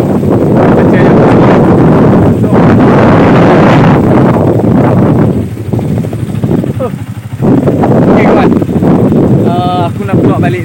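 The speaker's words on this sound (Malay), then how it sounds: "Sebab ni angin kuat ni" Strong wind gusts roar steadily across the microphone on a riverbank at the Bernam River, loud broadband buffeting with a brief lull midway, while people talk underneath.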